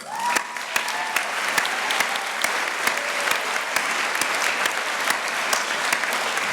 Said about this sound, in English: give a big round of applause to the individuals who prepared thoughtful and inspiring sessions for today